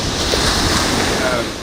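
Sea waves wash onto the shore by Osu Castle in Accra as a brief, steady rush of surf mixed with wind buffeting the microphone.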